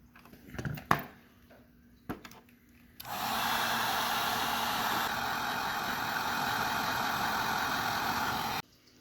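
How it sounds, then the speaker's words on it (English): A heat gun blows steadily on a vintage animatronic Santa Claus under repair, a loud continuous rushing roar lasting several seconds after a few brief knocks and handling sounds, then cutting off abruptly. "So I'm going to blast it with a heat gun."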